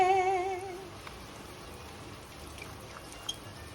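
Steady rain falls outdoors, a soft continuous patter and trickle spread evenly across the clip with a few sharper drops, fairly faint and distant, while a brief voiced sound fades out at the start.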